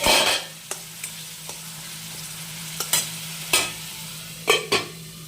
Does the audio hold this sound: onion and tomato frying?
yes